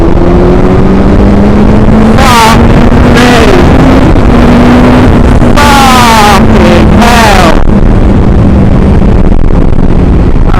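A Honda CBR1000RR motorcycle accelerates hard through an overtake, its engine note climbing in rising sweeps under steady wind roar, with loud bursts as it revs through the gears close to the microphone.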